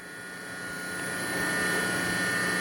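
DF64V coffee grinder motor spinning at 1800 RPM, a steady close whine with a faint high tone that swells slightly at first and then holds level, no talking.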